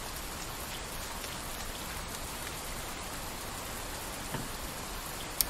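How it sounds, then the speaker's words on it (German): Steady video game rain pours down as an even, dense hiss with no pauses and no voices, in a bus-driving simulator. "Aber warum regnet denn so hier?"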